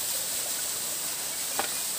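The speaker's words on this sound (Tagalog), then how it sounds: "Dinaanan lang namin itong falls dito." A waterfall along a mountain trail, heard as a steady rushing hiss of falling water, continuous and fairly close, with one brief faint knock partway through.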